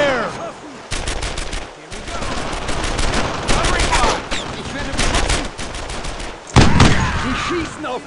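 Squad firefight in Brothers in Arms, rifles and machine guns going at once in rapid staccato bursts with short gaps between volleys and a loud burst near the end, under a constant battlefield din.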